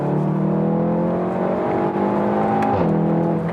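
A VW Golf R's 2-litre turbocharged engine revs hard, its loud rising growl climbing in pitch before a quick drop as the throttle lifts, then holding again.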